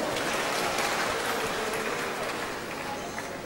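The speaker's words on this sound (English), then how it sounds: "Give him a round of applause." Audience at a church talk clapping in a steady, dense wash of applause that stays fairly even throughout, heard from a moderate distance.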